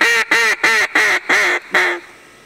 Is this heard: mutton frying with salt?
no